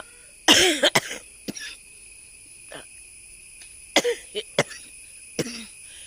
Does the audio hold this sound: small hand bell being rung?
no